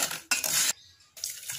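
Mango Nutrijel jelly powder and sugar stirred with a utensil in a pot, a brisk scraping and rattling in two short bursts separated by a brief pause, close and fairly quiet with no voices.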